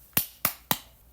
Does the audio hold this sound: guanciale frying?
no